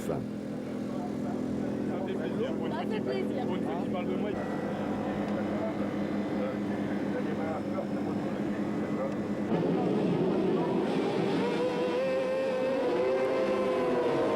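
600cc superbikes scream off the line at the race start at Ledenon circuit, several engines revving hard and rising in pitch through gear changes, with a commentator talking over them throughout.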